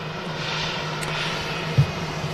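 A Singapore Airlines A350-900 at Manchester Airport produces a steady, moderately distant engine drone, with a faint low hum and a brief thump near the end and no voices.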